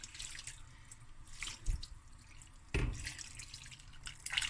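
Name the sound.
water poured into pot of rice and lamb shanks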